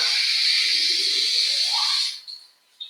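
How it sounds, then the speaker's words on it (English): Hot water pours steadily into a jar with a hissing rush, the pitch rising as it fills, then stops with a few faint drips. "I'm filling it with hot water"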